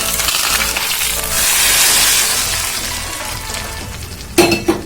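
Mustard seeds spluttering and popping in hot oil during tempering for a ridge gourd curry, a dense sizzling crackle with a couple of sharp pops near the end, close and alone.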